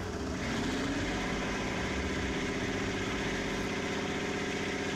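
A restored 1965 Ford Mustang engine idles close by, a steady loud rumble with an even pulsing rhythm that holds unchanged throughout.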